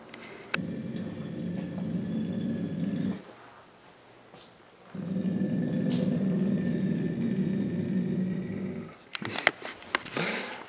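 At a house, a dog growls in two long, low rumbling stretches, each several seconds long with a short quiet pause between, followed by some brief knocks and rustling at the end.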